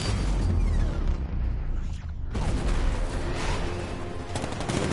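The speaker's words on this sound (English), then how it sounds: "60mm cannon operational" Heavy cannon fire from the Batmobile's 60mm gun in Batman: Arkham Knight, a loud continuous barrage of booming blasts and rattling shots with a brief dip midway before the firing resumes.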